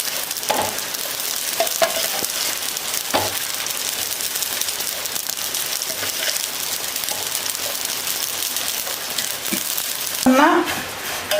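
Broken, already-roasted vermicelli sizzles steadily in a hot pan while being stirred, a dense continuous crackle with soft scraping strokes throughout and a slightly louder stir near the end.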